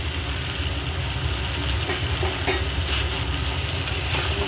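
Fried potatoes and pointed gourd go into a pan of cooked-down spices and oil, giving a steady, dense sizzle that holds evenly throughout without any voices.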